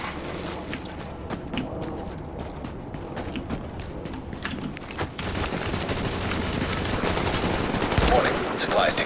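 Gunfire in the video game The Division, with rapid rattling bursts of shots over a dense, busy game soundscape that grows louder and fuller toward the end, with some faint voice-like sounds mixed in.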